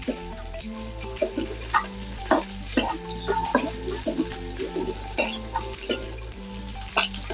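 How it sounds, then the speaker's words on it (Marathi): Goat liver frying in hot oil in a pan, a close, continuous sizzle with repeated stirring scrapes and clinks running the whole time, with no talk. "असा तेलामध्ये भाजून घेतला ना एकदम छान होते"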